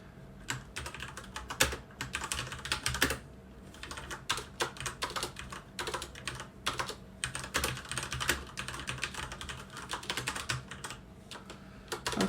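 Typing into a text editor on an ASUS ROG Strix Flare mechanical keyboard: dense, rapid runs of keystrokes in close bursts with short pauses between, steady and near, no talking.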